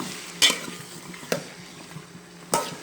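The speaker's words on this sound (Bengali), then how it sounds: "দেখুন ভিউয়ার্স, আমি এতক্ষণ ধরে বেগুন আর আলুটাকে নেড়েচেড়ে কষিয়ে নিয়েছি।" Eggplant and potato being stirred and fried in spices in a pan, with a steady low sizzle and three sharp scraping stirs of the utensil against the pan, close and clear.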